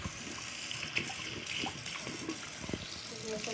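Tap water runs into a sink to rinse off a foaming baking-soda volcano experiment, a steady splashing gush close by with some handling clatter and a voice speaking over it.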